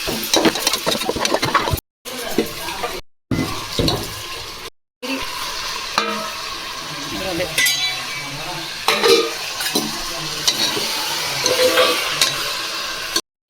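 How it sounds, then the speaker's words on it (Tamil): Biryani masala with ginger garlic paste, coriander and mint stirred in a sizzling pan, a steady frying hiss with scraping stirs throughout, broken by brief silent cuts. "இஞ்சி பூண்டு பேஸ்ட்டு, கொத்தமல்லி, புதினா எல்லாத்தையும் போட்டு மிக்ஸ் பண்ணிக்கலாம்"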